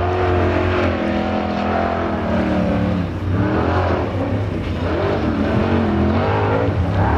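Formula offroad race car climbing a steep hill at a 2012 event in Finland, its engine roaring loud and continuous with revs surging and dipping throughout.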